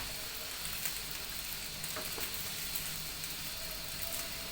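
Rice with butter and vermicelli sizzles steadily in a pan while a utensil stirs it, giving a few soft scraping strokes over the constant hiss.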